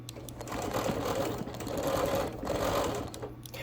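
A sewing machine quilting with neon thread runs in a steady, continuous mechanical whir with a fast stitching rhythm, at moderate level and close by, with no talk over it.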